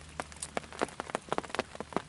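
Winter rain patters on a surface beside a fishing pool in an irregular, close patter of distinct drops, fairly quiet with no voices.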